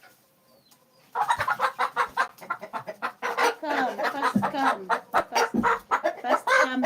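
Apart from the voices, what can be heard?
hens clucking while eating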